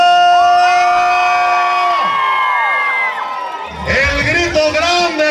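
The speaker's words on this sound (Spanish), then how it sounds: "El grito grande aquí en Santa Catarina." A large crowd at a packed New Year's Eve event in Santa Catarina roars and shouts loudly, long sustained yells swelling into a dense burst of cheering and whooping, with an announcer's voice over it.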